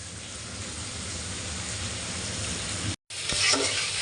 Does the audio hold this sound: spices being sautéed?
yes